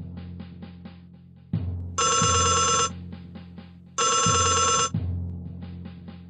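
Two loud bursts of an electronic telephone bell, each about a second long with a pause between, ring over a steady low background hum as a sound effect in a Taiwanese-language radio drama.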